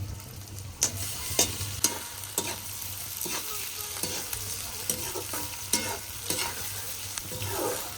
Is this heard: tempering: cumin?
yes